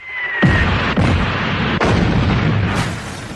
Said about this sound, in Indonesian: dia sendiri yang jadi sasaran tembak sniper